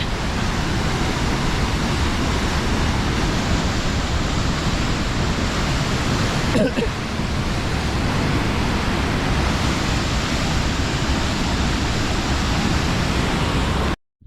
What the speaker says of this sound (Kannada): ಗೇಟ್ ಓಪನ್ ಮಾಡಿದರೆ ನೀರು ನೋಡಿ ಹೆಂಗೆ ಹೋಗ್ತಾ ಇದೆ